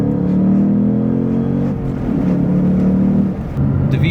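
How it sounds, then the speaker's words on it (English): A 2022 Ford Mustang Mach 1 V8 with no rev limiter rumbles loudly and up close, its pitch rising and falling through several sustained revs with a short dip near the end, no voices. "there's no rev limiter, meaning that in traffic lights you can annoy everyone perfectly"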